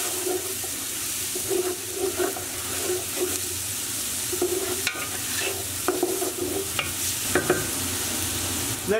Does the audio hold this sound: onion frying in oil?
yes